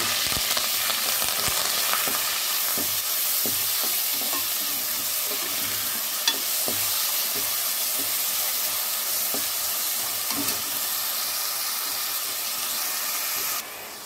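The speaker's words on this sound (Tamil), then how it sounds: "வானல்ல எண்ணெய் ஊற்றி கடுகு உளுத்தம்பருப்பு கடலைப்பருப்பு தாளிச்சிருக்குங்க" Mustard seeds, urad dal and chana dal fry in oil in a pan, a steady close sizzle with scattered small pops and crackles running throughout, no talking.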